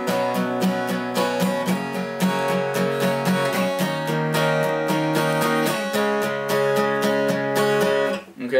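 Guitar strums the pre-chorus chords of a song in a steady, even rhythm of repeated chord changes, close and fairly loud with no talking, ending in a brief pause and a fresh strum.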